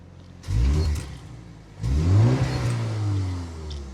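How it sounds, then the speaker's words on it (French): A BMW M135 F70's four-cylinder engine in sport mode revs twice up close, a short burst then a longer, stronger climb that hangs before easing off. "C'est un bruit un petit peu timide parce que ça reste un 4 cylindres."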